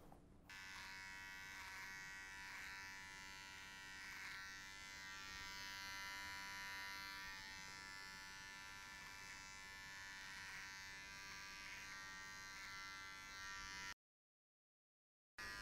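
An electric trimmer buzzes steadily and close by for about fourteen seconds while it trims a large curly beard, with slight shifts in tone as it moves through the hair, then cuts off abruptly.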